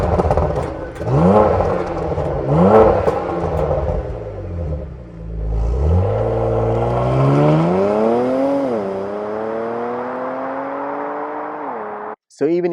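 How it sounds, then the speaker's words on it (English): Porsche Macan GTS engine with the Porsche Sport exhaust, loud and close, revving up and down several times in deep sweeping rises and falls, then a long climbing pull before cutting off abruptly, with a voice talking over it. "What you also get on the GTS as standard is the Sport exhaust, so PSE, Porsche Sport exhaust system."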